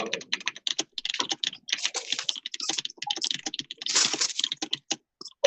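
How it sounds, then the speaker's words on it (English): Rapid typing on a computer keyboard, a dense, steady stream of sharp clicking keystrokes, close and clear without any voices. "Someone's typing so fast."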